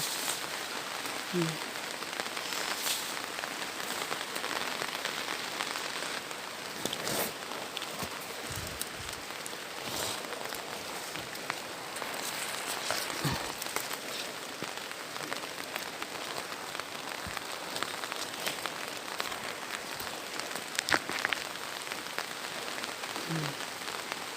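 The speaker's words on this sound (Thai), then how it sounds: "ฝนก็ตกตกดูสิครับ" Steady outdoor rainfall pattering on surfaces, continuous and even throughout, with a faint voice occasionally underneath.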